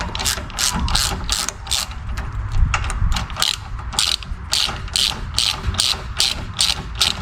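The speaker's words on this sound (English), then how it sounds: "As for the old Temu ratchet, not too bad." A cheap Temu ratchet wrench being worked on a part for a 79 Series build, clicking in a steady rapid rhythm of pawl ticks with brief pauses between strokes, close and fairly loud, with no talking.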